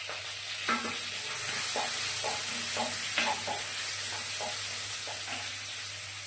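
Crushed garlic and curry leaves fry in hot oil with a constant bright sizzle, punctuated by repeated soft stirring scrapes at a moderate level.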